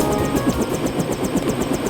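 A helicopter idles nearby in a futuristic shooter, its rotor thudding in a rapid, even rhythm with a steady mechanical drone underneath, alone and fairly loud.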